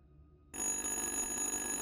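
A telephone rings in the horror video game Little Hope, a sustained electronic ring starting abruptly after a brief quiet moment and continuing steadily, loud and close.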